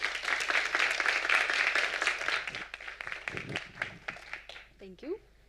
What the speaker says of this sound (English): Give a warm applause for Sabina Scortanu.